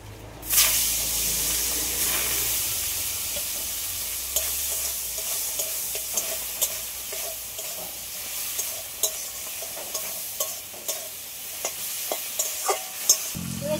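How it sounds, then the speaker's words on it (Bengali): Shrimp fry in a pan with a loud burst of spitting hiss at the start, then settle into a steady sizzle marked by regular spoon clacks against the metal. "এবার চিংড়ি মাছগুলো ভেজে নেব"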